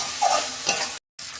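Fried potatoes are stirred in hot oil in a pan, a close, busy sizzle with scraping stirs, broken by a brief moment of silence before the frying resumes.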